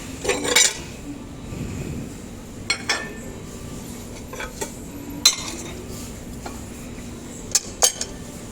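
Ceramic plates and dishes clink and knock sharply as they are handled on a store shelf, several scattered chinks over quiet background hum, with no talk.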